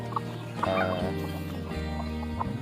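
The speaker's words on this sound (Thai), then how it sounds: "โซนนี้นะครับก็จะเป็น ไก่อายุ 1 ปีถึง 2 ปีนะครับ ก็เป็นไก่แก่แล้วนะครับ" Older hens, one to two years old, cluck and gobble steadily in a backyard flock, with repeated overlapping calls close by and no talking.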